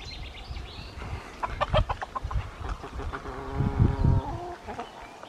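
Hens cluck and murmur close by inside a small portable chicken coop, in a string of soft irregular calls with one louder drawn-out vocalization near the end, amid quiet outdoor garden ambience.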